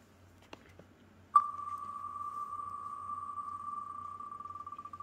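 A high electronic tone of rapid ticks starts abruptly and runs steadily, then slows into distinct clicks near the end, like a digital prize wheel winding down.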